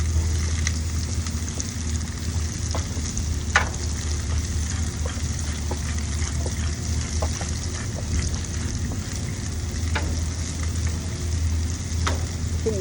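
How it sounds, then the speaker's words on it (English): Onions and jalapenos sizzle steadily on a hot grill, seasoned with salt and pepper, a continuous close crackling fry with occasional sharp pops and light scraping, no voices. "I'm doing more of like a grilled onion. And then the jalapenos."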